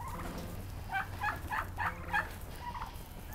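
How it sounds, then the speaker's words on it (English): Free-range local organic turkeys gobble in a quick series of rattling calls, about five close bursts over a low steady background hum, with no talking. "Hello, local organic free-range turkeys!"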